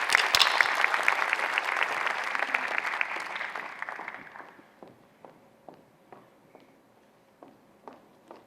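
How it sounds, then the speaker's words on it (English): An auditorium audience applauds a plenary speaker, a dense burst of clapping that thins out after about four seconds into a few scattered claps and footsteps as he walks to the stage. "A round of applause, please, for Lee."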